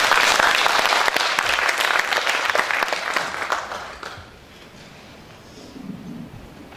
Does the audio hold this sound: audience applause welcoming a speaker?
yes